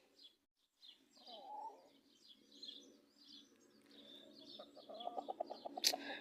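Hens in a backyard flock give soft clucks and chatter, rising toward the end into a quicker run of louder clucks with a brief sharp call, heard close with no talk.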